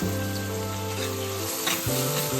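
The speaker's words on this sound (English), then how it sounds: "When the oil is hot, add the sliced onions, crushed ginger, crushed garlic" Sliced onions, crushed ginger and crushed garlic hit hot coconut oil in a thick pan for Angamaly pork, a loud continuous sizzle under a steady droning hum, with no talking.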